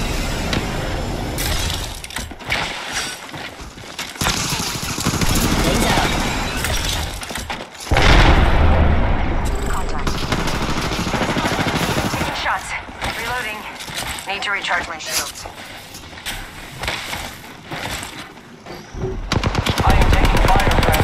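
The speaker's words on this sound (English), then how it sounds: "I am taking fire" Bursts of automatic gunfire in an Apex Legends arena match as the player takes hits, loud rapid volleys broken by short pauses, with glassy shattering crackles and game effects mixed in throughout.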